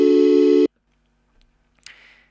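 Sampled instrument note in the Renoise tracker set to continue: one loud sustained harmonic tone that stops abruptly after about half a second, followed by faint clicks and a short noisy tail.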